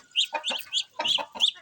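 Several chickens, including a red yellow-legged hen, cluck in short, close bursts with sharp, high notes, one quick call after another and no talk over them.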